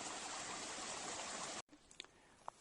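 A mountain stream on the Pacific Crest Trail, used as a water source, rushes in a steady close hiss that cuts off abruptly, leaving quiet outdoor air with a few faint knocks.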